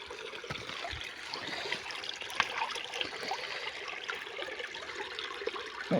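Stone found while hunting for quartz and ornamental stones being washed in water, a continuous close splashing and trickling with small irregular sloshes, no voices.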